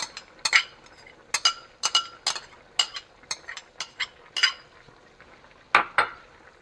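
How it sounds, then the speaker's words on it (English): A spoon stirs oxtail with seasoning, scallions and carrot in a metal pot, giving a dozen or so sharp clinks and scrapes in an irregular rhythm, close and clear over a quiet background with no talking. "I'm gonna stir it."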